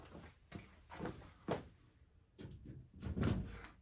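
The tailgate of a 1996 Ford Bronco Sport being opened, heard as a run of close, soft thumps and clunks with a heavier rattling clunk near the end, no talking.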